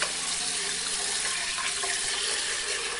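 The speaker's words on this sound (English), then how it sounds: "Please use cold water, and this is how you wash the rice." Cold water runs from a tap into a pot of rice being rinsed, a dense, steady hiss and splash at close range that holds even and loud for the whole stretch, with no speech.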